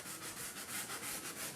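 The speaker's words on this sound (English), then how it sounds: "the sanding sponge." A sanding sponge rubbed back and forth over a wooden tabletop, giving steady rhythmic scratchy strokes that sound close and fairly loud, with no talking.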